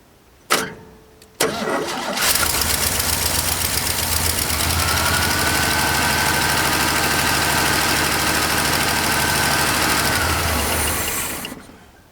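An old pickup truck engine, bought back decades after being sold, cranks briefly with a couple of sharp starter bursts, then catches and runs steadily at a loud, even idle close by for several seconds before cutting out.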